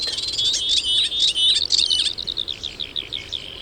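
Warblers, linnets and buntings sing in open countryside at Les Plaines Villes, Ploufragan, Brittany, a dense tangle of high, rapid chirps and trills running continuously, then breaking into short repeated phrases toward the end.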